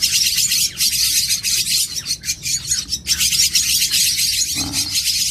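Javan myna (jalak kebo) chick giving dense, continuous high-pitched chirps and squawks, loud and close, with no pauses and no talk.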